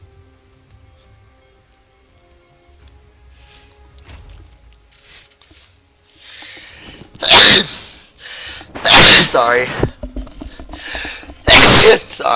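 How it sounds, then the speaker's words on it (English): A person sneezes three times in loud, sharp bursts, close to the microphone, each spaced a second or two apart, following a quiet stretch of faint computer-game background sound while playing World of Tanks Generals; a brief spoken word comes between them. "Sometimes I just have to sneeze,"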